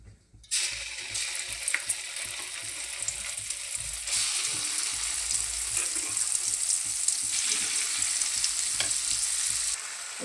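Spice paste drops into hot oil and erupts into a loud, close sizzle that runs on steadily, with light scraping stirs and a brief surge partway through.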